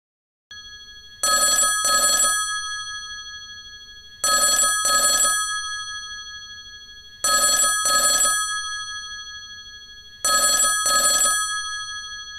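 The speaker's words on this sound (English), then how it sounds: "Mom started calling me again" An old-style telephone bell rings in four double bursts, evenly spaced a few seconds apart, loud and near, with no voices.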